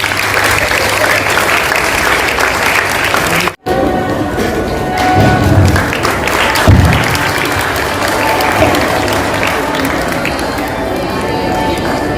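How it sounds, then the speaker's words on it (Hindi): Audience clapping at an Urdu day event, steady dense applause filling the room, briefly cut off before resuming, with a voice speaking over it. "तालियों के साथ अपने साथियों की हौसला अफजाई कीजिए।"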